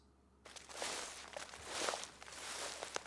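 Footsteps outside a backpacking tent at night, a few slow crunching steps on the ground after a moment of silence, faint and nearby with no voices.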